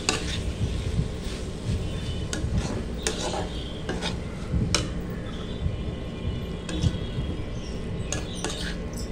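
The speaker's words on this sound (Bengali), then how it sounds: "কিমাটাতে আমি ভালোভাবে কর্নফ্লাওয়ারটাকে মিশিয়ে নিচ্ছি।" Cornflour is being worked into minced meat for a wonton filling, with steady soft stirring and scraping against a bowl and small clinks of utensils, continuous and close.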